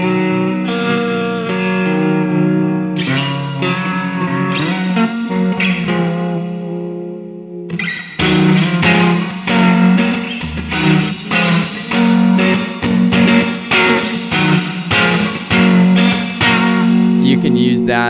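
An electric guitar runs through a Generation Loss pedal on a worship pedalboard with a Strymon Iridium, ringing out sustained, warbling chords before switching to choppy, rhythmic strummed stabs, loud and upfront.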